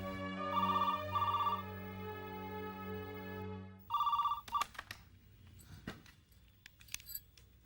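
An old-style telephone bell rings close by in two quick bursts, pauses, rings once more briefly, then gives way to clattering handling sounds.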